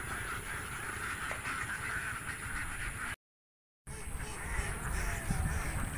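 A large flock of ducks on a rural farm at sunset, a dense continuous chorus of quacking and honking calls close by, with a brief gap of silence partway through.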